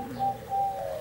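Perkutut (zebra dove) cooing in a breeding setting, two soft tonal coo phrases in quick succession, fairly close and clear with no talk.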